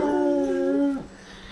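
A dog lets out a single drawn, tonal howl, loud and close, held for about a second before breaking off into quiet, heard beside a meat smoker while venison shoulder and a whole chicken cook.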